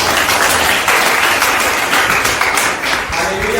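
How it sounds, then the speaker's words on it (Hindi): A congregation at a Hindi-language church prayer service claps together, a dense, steady burst of applause that stays loud and even for the whole stretch. "आप सब अपने अपने लिए ताली बजाओ"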